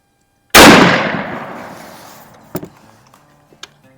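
A single loud, close rifle gunshot at a shooting range, a sharp crack with a long decaying echo, followed by a couple of faint metallic clicks and a softer knock.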